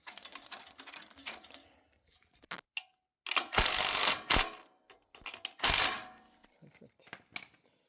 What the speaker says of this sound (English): We're just going to tighten these up.